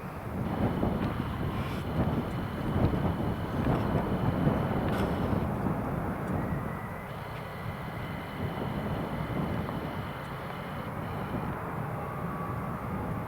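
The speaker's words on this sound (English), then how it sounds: "Easyjet giving it full power with this tailwind." An easyJet Airbus A320 takes off at full power with a tailwind at Newcastle Airport, heard from a distance as a continuous broad roar with wind buffeting on the microphone.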